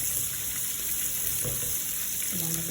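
Garlic and onion sauté together in very hot oil, giving a steady, close hiss and crackle of frying with a few faint clinks underneath.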